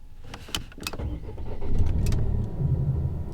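A 2018 Volvo XC60 T6 R-Design SUV's engine hums and builds as it gets underway onto a winter highway in eco mode, with a few sharp clicks early on, then a steady road rumble.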